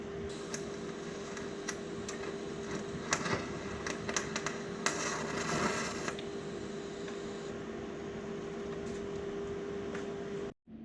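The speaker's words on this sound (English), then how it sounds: "so I can properly weld it all around" TIG welder laying a bead around a nut, a steady close hiss with a constant underlying hum and a few faint ticks, continuing evenly for about ten seconds before cutting off abruptly.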